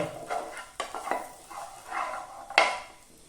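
Cumin seeds stirred in a pan for chicken masala give a soft sizzle broken by several scraping spoon strokes against the metal, one louder clatter near the end.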